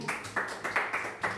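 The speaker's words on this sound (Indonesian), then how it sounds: "Tepuk tangan dong Pak Buat." Children in a classroom clap their hands in about six quick, evenly spaced claps, fairly faint and close together.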